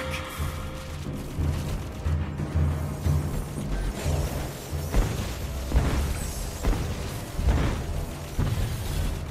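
Turret destruction in the Mobile Legends video game, with a series of deep booming explosions and mechanical rumbles arriving in irregular bursts over steady game background sound.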